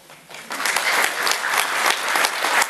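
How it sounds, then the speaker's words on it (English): An audience bursts into applause at a thank-you presentation, rising quickly from a quiet start into sustained dense clapping that stays full and close throughout. "So everybody give the people with personal power a little round of applause."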